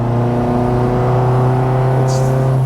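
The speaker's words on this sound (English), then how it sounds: "This is where the Supercharger really," A supercharged 1970 MGB GT with a Miata five-speed gearbox pulls hard as the supercharger comes on: a loud, sustained engine note with a smooth rising whine, heard close from the cabin.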